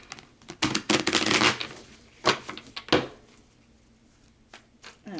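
Tarot cards are shuffled by hand in a series of quick riffling and slapping bursts, loud and close, with scattered softer taps and pauses between.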